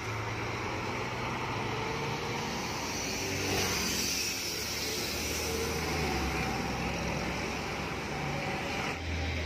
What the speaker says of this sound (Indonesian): Satu unit bis Surabaya Pahala Kencananya baru tiba di agen Pasarbo sore ini